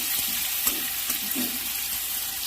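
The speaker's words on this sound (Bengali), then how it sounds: "টমেটোগুলো একটু ভেজে নেব।" Chopped tomatoes frying in a pan as a fish curry is being made, giving a steady soft sizzle with faint scraping. No one speaks.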